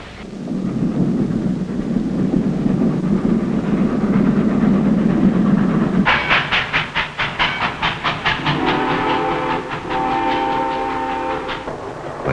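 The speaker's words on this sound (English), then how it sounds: "The one sure way to get someplace is on a train." A 1960s American train rumbles along the rails with a loud, continuous roar, then breaks into a rapid run of rhythmic clacks as cars pass close by, with a sustained horn-like tone near the end.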